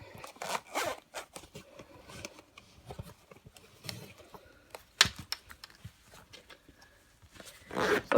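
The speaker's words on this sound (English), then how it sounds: "Let's see if we can get it to zip." A Filofax organizer being zipped closed around a standard-size traveler's notebook insert, heard as a run of short, irregular zipper rasps and scrapes with a louder pull near the end, close and alone.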